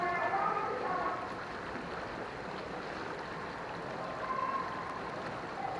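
Water of the Opak River flowing along its bank, a steady broad wash and rush of current with faint gurgles, fairly close and continuous throughout.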